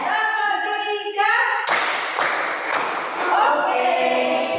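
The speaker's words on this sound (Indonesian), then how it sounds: "Tepuk 1. Tepuk 2. Yes. Tepuk 3." Classroom group clapping on count during a teaching session, with sharp, distinct claps coming in a quick rhythmic pattern after a voice calls out, and children's voices heard around them.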